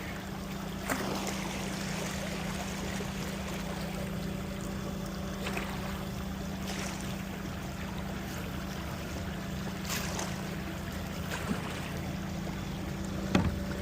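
A small Pac electric boat motor holds a steady course on cruise control, giving a constant low hum with a faint whine above it under continuous water wash, broken by a few light knocks.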